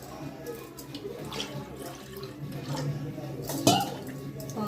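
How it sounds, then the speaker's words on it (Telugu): Water pours into a pot on the stove for boiling noodles, with clinks of utensils and a sharp metallic knock near the end, while a voice talks quietly in the background. "నూడిల్స్ ఉడికించుకోవడానికి వాటర్ పోయాలి"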